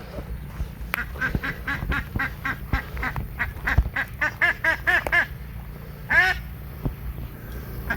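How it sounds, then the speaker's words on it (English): A male Muscovy duck gives a rapid run of short, rasping quacks up close, the calls bunching into quick bursts and pausing before one last longer call, with no talking over them. "Male Muscovy."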